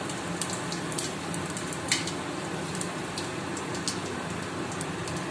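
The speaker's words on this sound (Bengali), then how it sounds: "দেব 5 ফোড়ন আর শুকনো লঙ্কা" Panch phoron and dried red chillies crackle in hot oil in a kadai, a steady dense sizzle with scattered sharp pops throughout.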